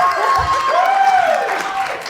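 Audience applause and cheering from a crowd at a live magic mind-reading show, a steady wash of clapping throughout with a whistle-like tone rising over it.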